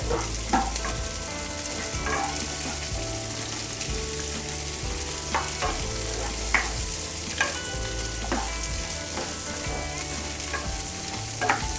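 Onions and green chillies sauté in coconut oil for a fish curry, giving a constant close sizzle broken by repeated scraping stir strokes at a steady pace, with no talking.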